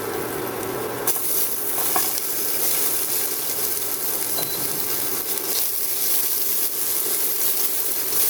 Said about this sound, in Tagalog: Igisa ko muna yung bawang.